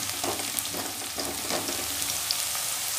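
Onions fry to a light golden colour in a pan, a continuous close sizzle with crackling pops and occasional soft stirring scrapes, steady and unbroken throughout with no talking.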